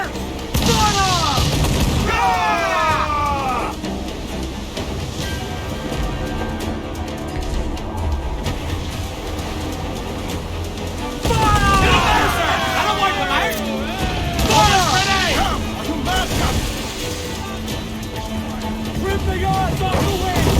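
Ship cannon fire during a naval battle in Assassin's Creed IV Black Flag, with heavy booms and volleys rolling over a continuous din of shouting crew voices and battle noise.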